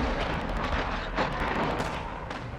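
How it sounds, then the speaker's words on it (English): Cruise missile impact explosion in Call of Duty MW2, heard as a loud continuous rumbling blast with crackling bursts throughout and a sharper swell midway, dense and sustained for the whole stretch. "Trojan 6-2, cruise missile inbound."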